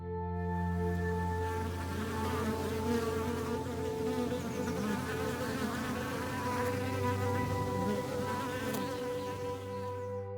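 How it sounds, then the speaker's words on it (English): Bees hum steadily among tall garden flowers, a close, continuous buzz with wings droning at several pitches, some passing nearer and louder, with no voices. "Neither of us enjoys the bees, but it's inevitable and the world needs bees"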